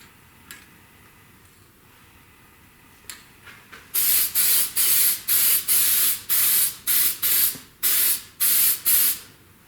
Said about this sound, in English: spray around both sides here.